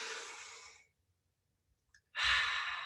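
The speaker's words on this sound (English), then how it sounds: "take a deep breath in." A single deep breath drawn in slowly, close and clear, followed by a pause and then a second long, loud breath, with no talking.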